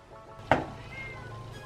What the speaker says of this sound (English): Oh my gosh, this little kitty won't go away.